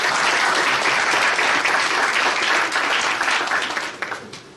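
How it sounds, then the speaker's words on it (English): An audience at an international conference on ocean sustainability gives loud, sustained applause, a thick roar of clapping that holds steady and then tapers off near the end. "Another round of applause."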